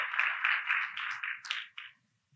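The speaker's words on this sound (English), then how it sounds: "Let's give a huge round of applause for Robin and Responsive Conference and day 2" A conference audience at Responsive Conference 2019 applauds its host, a dense burst of clapping that holds steady, then thins out and stops, quite quiet overall.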